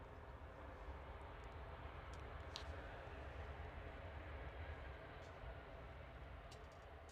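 EgyptAir airliner at Manchester Airport, heard as a steady, continuous jet engine roar that holds at an even level throughout, with no clear rise or fade.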